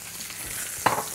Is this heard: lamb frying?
yes